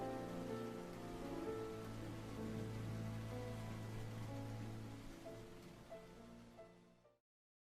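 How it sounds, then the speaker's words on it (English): Rain begins falling in a steady, soft wash of drops, faint and continuous, with a low hum underneath, fading out at the end. "huddled under her parasol as the rain starts to fall."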